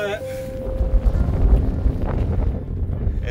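Strong wind buffets the microphone in low rumbling gusts on the cold summit of Jebel Shams, Oman, with faint voices nearby.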